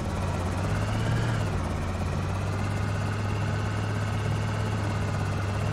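Helicopter in the zombie survival game Project Zomboid droning overhead, a steady low rotor thrum and engine hum that holds loud and constant throughout with no speech.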